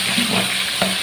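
Oil sizzles steadily as chopped onions fry in a pan, with a soft stir or scrape near the end; no voices.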